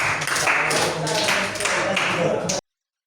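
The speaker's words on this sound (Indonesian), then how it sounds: "Oke, tepuk tangan dulu." Students applaud in a classroom before a group presentation, producing short, scattered, fairly close bursts of clapping that stop abruptly, while voices murmur in the room.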